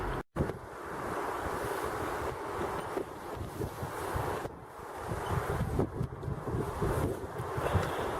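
Steady wind gusting across an allotment at dusk, a loud continuous roar of buffeting against the microphone with no voices, briefly cut near the start.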